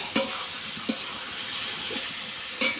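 Spices for a goat meat curry frying and being stirred in a pan, with a steady soft sizzle and a few sharp scraping clicks of the spoon at irregular intervals.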